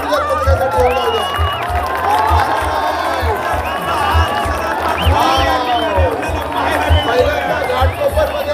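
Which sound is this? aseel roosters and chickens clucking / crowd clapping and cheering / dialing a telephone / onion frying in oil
crowd clapping and cheering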